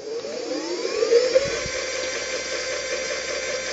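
A Dahon D3 Curve 16-inch ebike's hub motor spins the wheel under a Kelly controller, a steady high electric whine with rising tones and a few faint knocks, close and alone.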